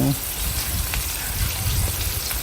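Onion, garlic and tomato being stirred in a pan for pinakbet, a loud dense sizzle with scraping stir movements, heard under a person talking.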